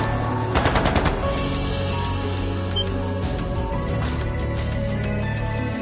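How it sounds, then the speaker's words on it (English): Rapid bursts of gunfire from the video game Trails of Cold Steel II, a rattling volley near the start followed by scattered shots over steady game music, fairly loud throughout. "That didn't sound good. That sounded like gunfire."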